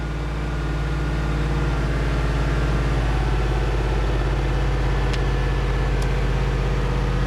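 An LS-swapped car engine with an electric water pump idles steadily up close, a constant low rumble with a faint whine, no talking.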